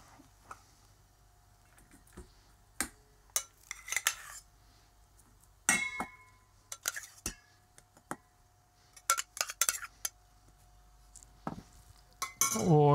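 A utensil stirring a rice and cod mixture in a pan, heard as scattered clinks and scrapes against the metal that come in irregular bursts over a quiet background.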